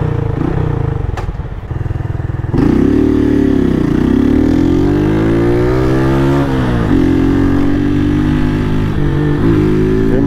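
A Honda Titan 160 motorcycle with an unfiltered can-style exhaust rides along, its loud, raspy engine idling briefly then revving up hard, rising and dipping in pitch through gear changes, heard close from the rider's position without talk.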